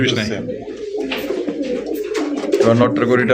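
Fancy racer pigeons cooing close by in a small loft or cage, soft throaty coos running throughout while people talk over them.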